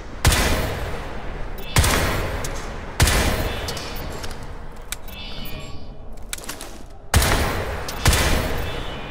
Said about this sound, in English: Even with fast twitch recoil compensation, rapid fire is inaccurate.